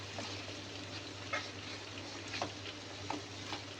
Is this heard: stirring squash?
yes